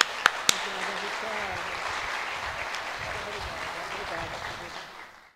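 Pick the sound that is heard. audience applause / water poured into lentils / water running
audience applause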